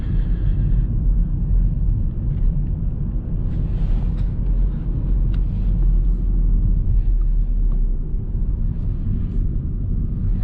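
An Audi A1 30 TFSI accelerates hard from 0 to 100 km/h on a night drive, heard from inside as a loud, steady, deep engine and road rumble that lasts throughout.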